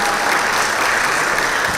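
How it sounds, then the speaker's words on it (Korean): Applause of thanks from an audience at a ceremony opening a national data support center in Daegu, a dense, steady burst of clapping filling the short moment without speech. "감사의 박수 부탁드리겠습니다"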